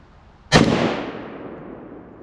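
A single sharp report from an RDB bullpup rifle fired outdoors at a target 40 yards away, loud and close, with a long echoing decay afterward and no talk.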